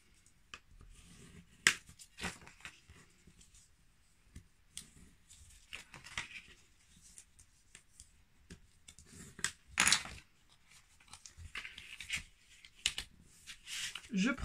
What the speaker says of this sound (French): je vais faire mes plis.